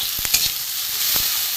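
Potato, onion, tomato and garlic fry together in a pan for a small-fish curry, giving a steady close sizzle with a few sharp crackles near the start and again late, and no talking.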